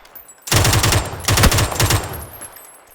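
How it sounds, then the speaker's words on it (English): Gunfire in the PUBG battle royale game: two rapid automatic bursts of close, loud shots, each lasting under a second, followed by a fading echoing tail, with no voices. "Shooting at unseen player."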